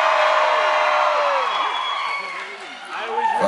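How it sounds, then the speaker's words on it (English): Concert crowd cheering and whooping, with loud overlapping voices and shouts sustained throughout, easing slightly then swelling again near the end. "If I say Temecula, will everybody cheer?"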